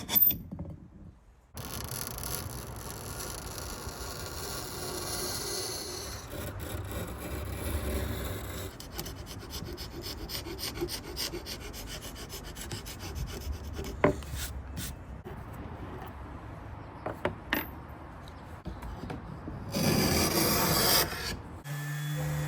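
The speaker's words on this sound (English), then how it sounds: "I thought I'd try and remove it with a scraper instead of a stripper." A hand scraper drags across a wooden mid-century nightstand to lift its flaking finish, giving close, continuous rasping and scratching strokes of varying intensity with no talk.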